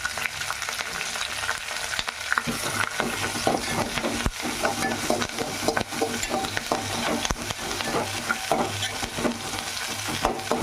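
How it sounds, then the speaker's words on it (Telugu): Curry leaves fry crisp in hot oil, a dense crackling sizzle that runs nonstop and close. Frequent stirring clatters against the pan, and there is no talking. "అవి బాగా క్రిస్పీగా వచ్చిందాక వేయించుకుందాం."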